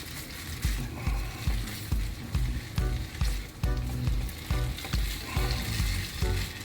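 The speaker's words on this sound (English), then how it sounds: "you got to constantly move it" Tomato paste sizzles and fries in olive oil for a spaghetti daube, with steady loud crackling and repeated scraping strokes as it is constantly moved around the pan.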